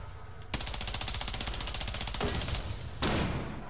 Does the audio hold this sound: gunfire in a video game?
yes